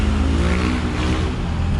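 Steady road traffic on a Friday evening in Taipa, Macau, cars streaming toward the Macau side: a continuous close rumble of engines with passing vehicles and revving, dense and unbroken throughout.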